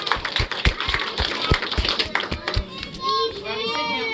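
An audience claps for a young ballerina after a magic trick, with a burst of sharp, fairly close handclaps. Children's voices chatter over the clapping, which fades as squeaky tones and talk take over near the end.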